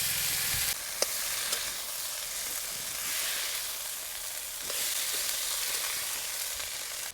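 Spices and chopped tomato sizzle in a hot pan, a continuous bright crackling hiss with occasional sharp clicks of stirring, close and steady throughout.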